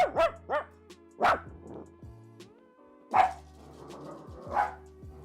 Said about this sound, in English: That's just a dog agreeing with me.